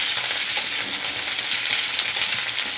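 Cauliflower florets and potato pieces fry in a pan over medium flame, giving a steady, dense sizzle with slight crackle throughout and no one talking.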